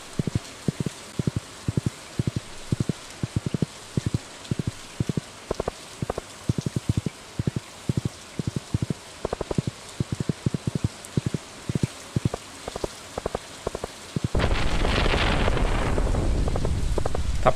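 Steady rain with sharp, irregular drop ticks falls in a Stardew Valley thunderstorm, and a heavy rumble of thunder swells over the last few seconds.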